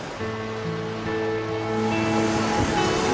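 Sea waves rolling and washing steadily as a broad surging rush that grows slightly louder, with sustained low tones running underneath.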